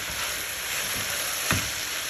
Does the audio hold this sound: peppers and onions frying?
yes